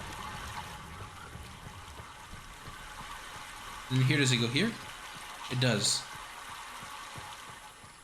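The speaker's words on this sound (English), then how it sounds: "I hear water flowing" Water flows steadily in the background of the Myst video game, a soft continuous rush that runs under a man's speech from start to finish.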